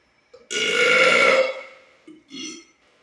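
One loud, long, rasping burp swells and fades over about a second. A shorter, lower burp follows, with a slight echo as if in a gym.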